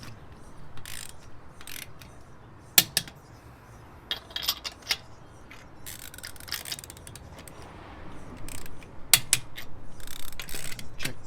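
A torque wrench tightens the bolts of a Tork control arm brace on a Hyundai Veloster N. Close, sharp ratcheting clicks come in quick bursts, separated by short pauses and soft handling noise.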